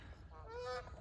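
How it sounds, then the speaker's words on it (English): A goose gives a single drawn-out honk, fairly close and alone, rising and falling over about a second against quiet outdoor background. "look at all the geese"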